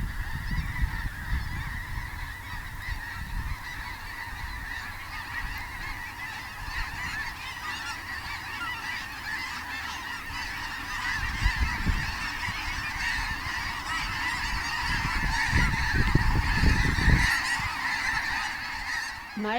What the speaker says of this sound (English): That must be hundreds of birds. And they're making quite a lot of noise.